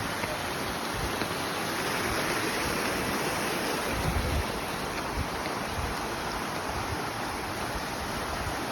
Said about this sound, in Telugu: వాటర్ ఫాల్ వచ్చాం ఫ్రెండ్స్